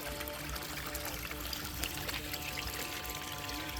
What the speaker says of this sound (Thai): โอ้ดูนะสายน้ำไหลสวยงามมากเลยนะคะ